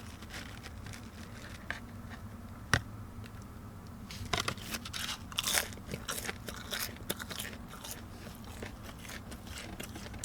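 Someone bites into a McDonald's Hot Honey Sandwich and chews up close, with crisp crunches and wet chewing in uneven bursts, louder after an initial quiet stretch.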